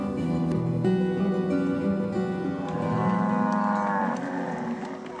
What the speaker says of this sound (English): Mustering cattle is a daily ritual for the MacArthur family.